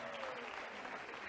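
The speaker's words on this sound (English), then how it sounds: "Let's give her a round of applause as well." An audience at the annual AMESA congress gives a brief, steady round of applause honouring a colleague, the clapping dense and even with a faint tone and murmur beneath it.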